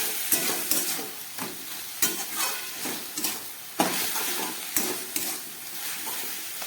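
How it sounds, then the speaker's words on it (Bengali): A spinach-cabbage curry with potatoes sizzles in a pan as it is mixed, with rhythmic spatula scrapes and knocks cutting through a continuous frying hiss, close and fairly loud. "দিয়ে এটাকে খুব ভালো করে মিশিয়ে নেব"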